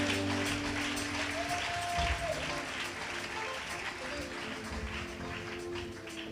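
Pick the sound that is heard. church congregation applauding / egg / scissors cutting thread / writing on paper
church congregation applauding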